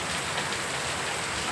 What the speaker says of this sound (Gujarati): ભગવાને સરસ મજાનો જો વરસાદ મોકલ્યો